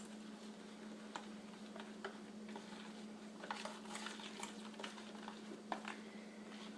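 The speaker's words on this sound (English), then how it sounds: "Mix this up really, really well. Make sure that chocolate is melted." Spoon stirring a thick peanut butter and melted chocolate mixture in a bowl, faint soft scrapes and light clicks repeating irregularly over a low steady hum.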